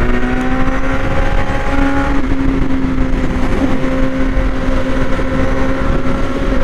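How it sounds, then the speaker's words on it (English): A Suzuki Gixxer 650F motorcycle engine drones steadily at high revs on a twisty road, loud and close with a constant buzzing pitch and no speech. "That's a Gixxer 650F. Sound good."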